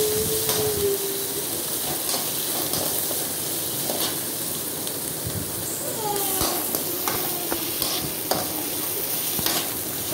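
Sliced onions sauté in hot oil in a pan for papaya sambhar, a steady close sizzle with occasional stirring scrapes and clinks running throughout.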